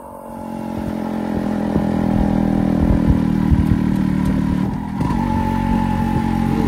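A motorcycle engine on a new bike's first ride hums close and loud at a steady pace, rising slightly as it revs around low speed, with a brief dip and shift partway through.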